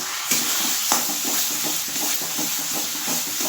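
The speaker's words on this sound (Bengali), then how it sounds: "এটা আমি ভালো করে আগে ভেজে নিই" Banana flower (mocha) fries and is stirred in a pan, giving a steady loud sizzle with regular scraping strokes of the spoon and a few sharper clinks.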